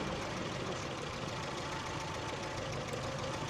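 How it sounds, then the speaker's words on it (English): An old car's engine idles after an ignition coil upgrade, a steady, fairly quiet rumble with a faint rough knocking texture running evenly throughout and no speech. "we have a better running in idle"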